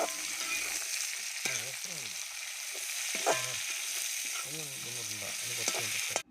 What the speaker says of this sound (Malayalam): നമ്മൾ നേരത്തെ നന്നാക്കി വെച്ച ചെറിയുള്ളി അത് ഫുള്ളിട്ട് കൊടുക്കണം കേട്ടോ. എന്നിട്ട് വീണ്ടും നമ്മൾ ഇളക്കണം.